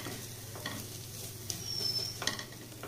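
Beef filling for snack rolls is sautéed and stirred in a pan, a quiet steady sizzle with a few light spatula scrapes and clicks nearby, and no one speaking.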